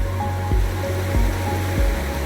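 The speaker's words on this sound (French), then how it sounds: "Une magnifique rivière." A river rushing steadily on a fly-fishing outing, a loud, continuous broadband wash of flowing water filling the whole clip with no voices.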